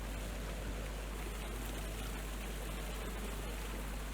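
A steady, full rush of falling water, continuous and enveloping, with a low rumble underneath and no other sounds.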